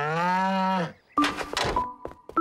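Cartoon farm cows give a long, loud moo, followed after a short pause by several more lowing calls and bellows, close and clear with no talk over them.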